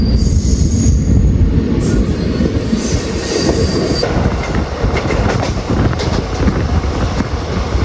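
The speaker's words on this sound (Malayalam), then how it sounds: "നമ്മൾ നെല്ലായി എന്ന് പറഞ്ഞിട്ടുള്ള റെയിൽവേ സ്റ്റേഷനിൽ ഇപ്പോൾ ഡിപ്പാർട്ടായി" A passenger train pulling out of Nellayi railway station in Kerala, loud and close, with high-pitched wheel squeal early on over a dense rolling rumble and rhythmic clickety-clack as it gathers pace.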